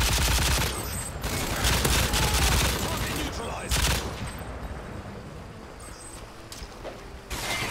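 Rapid gunfire from Modern Warfare 3 multiplayer, likely M60 machine guns, rattles in dense close bursts nearly throughout, with short pauses between volleys.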